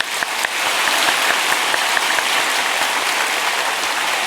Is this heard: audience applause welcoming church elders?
yes